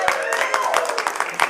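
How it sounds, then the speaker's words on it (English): Scattered audience clapping in a live show, a round of applause for the person on the board, with a voice talking over it. "And one round for Ty on the board back there."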